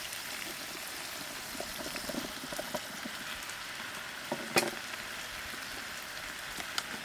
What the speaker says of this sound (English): Now I'm going to add in my mushroom that was 250 gram.